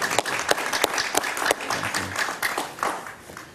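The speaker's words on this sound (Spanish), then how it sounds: "Un aplauso para mi amigo Frank Mora" Studio audience applause on a Spanish-language talk show, steady dense clapping from a crowd with sharp individual claps standing out, filling the whole stretch without speech.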